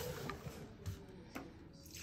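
Distilled water is poured into a mix of baking soda and maple syrup for dandelion tea, giving a brief, soft, faint splashing trickle.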